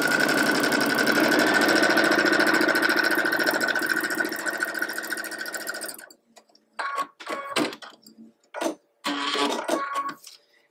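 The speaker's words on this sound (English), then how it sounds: "I'm going to sew that with a 1/4 inch" A sewing machine stitches a quarter-inch seam on a quilt block, running steadily and loud for about six seconds before stopping, followed by a few short mechanical bursts and clicks.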